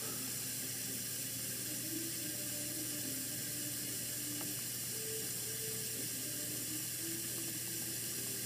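Water leaks from a faulty GE Monogram dishwasher, a steady wet hiss and trickle running continuously alongside a faint mechanical hum and occasional soft clicks.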